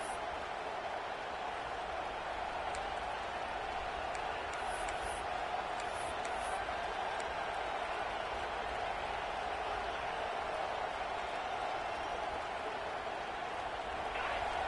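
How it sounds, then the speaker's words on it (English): A constant roar from a huge college football stadium crowd at Alabama versus Florida State, loud and unbroken, with a few faint whistles rising above the din. "Listen to this crowd just shaking the girders of this place"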